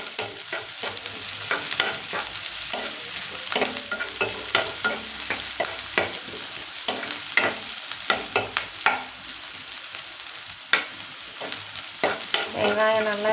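Onions fry in a pan for chicken varuval, a constant close sizzle broken by frequent rhythmic scrapes and taps of a spatula stirring against the pan, steady and fairly loud throughout.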